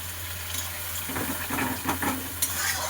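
A little water poured into a cooking pot holding potatoes and whisked curd for a Bengali soybean bori curry, a close liquid trickle and splash over a steady low kitchen hum, with no talking.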